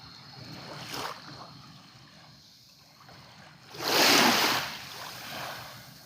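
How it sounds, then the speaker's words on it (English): Waves wash onto the shore of Long Island Sound in Connecticut, a soft steady surf that swells into one louder, close rush near the end, with faint wind noise throughout. "you're hearing the sounds of the tranquility of the waves coming to the shore"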